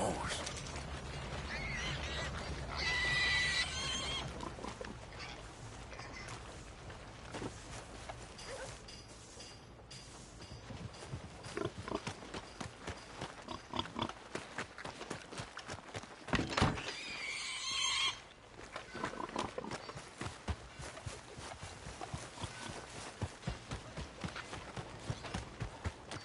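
Horse in the video game Red Dead Redemption 2 whinnies and clops along, hooves and mechanical clatter running through a busy, steady game soundscape with a louder burst near the middle.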